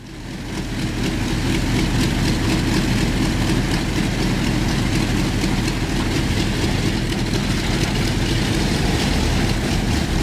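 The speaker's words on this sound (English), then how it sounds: "Wonderful Buffalo Airways DC-4 engine startup in Alaska." Buffalo Airways' vintage Douglas DC-4 propeller airliner in Alaska runs up its piston engine, a loud, steady, deep droning rumble that holds evenly throughout, close by and with no talking.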